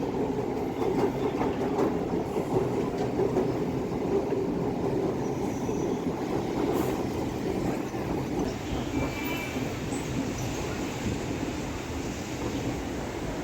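An MRTS commuter train on the Velachery to Beach line rolls along steadily, with continuous wheel rumble, rail clatter and occasional faint squeals filling the whole stretch, no voices present.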